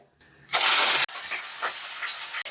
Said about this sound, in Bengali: দিচ্ছি মাছের মাথাটা প্রথমে তেলে ভেজে নেবো এবারে।